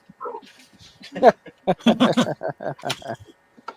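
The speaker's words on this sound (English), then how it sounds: "Who's making the dog bark?" A dog yips and whimpers in a quick run of short, excited barks close by, with some human voice mixed in.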